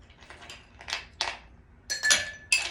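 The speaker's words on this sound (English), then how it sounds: "So we're going to start out with some ice." Ice cubes are dropped into a glass for a gin martini, a few separate sharp clinks and rattles, close and clear, with quiet gaps between them.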